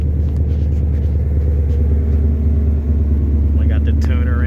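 A 2020 Shelby GT500 Mustang with Borla exhaust and Whipple supercharger idles steadily after a cold start, a loud continuous low rumble that holds without change.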